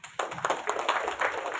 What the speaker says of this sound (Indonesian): Tepuk tangan saya kira.